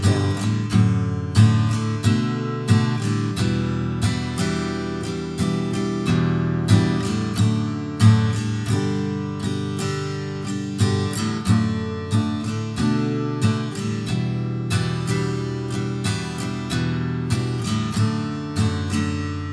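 Acoustic guitar strums the easy verse chords of a song in a steady down-down-up-up-down-up pattern, played close and clear throughout with no voice.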